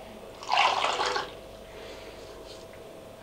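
Rinse water for after toothbrushing pours and splashes briefly in a bathroom, a short bright burst of running liquid followed by quieter drips, with no talking.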